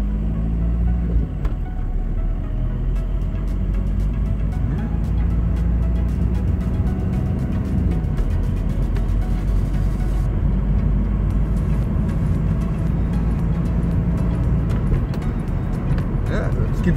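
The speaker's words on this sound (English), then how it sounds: "I'm driving 45 kilometers per hour" A car drives steadily at about 45 km/h, giving a constant low road-and-engine rumble. A voice talks over it the whole time.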